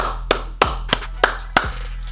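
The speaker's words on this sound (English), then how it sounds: "Clap it up, y'all." Five sharp hand claps spaced roughly a third of a second apart, close and crisp over a low steady hum, with nothing else around them.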